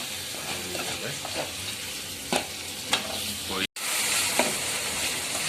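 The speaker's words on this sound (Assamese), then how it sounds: "অলপ খুচৰি দিছোঁ, বিলাহীটো গলাই লৈছোঁ।" Tomato and masala frying in a pan for a fish curry, a loud steady sizzle with a spoon scraping and stirring now and then, and a brief break midway.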